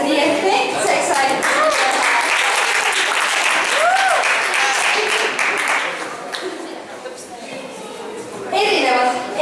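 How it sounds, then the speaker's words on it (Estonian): An audience applauds the performer's helpers on a stage show, a full wash of clapping that swells, dips slightly midway and rises again, with a voice speaking and some musical tones mixed in. "Kõigepealt aplaus sinu abilistele, kes selle etteaasta nii efektseks said."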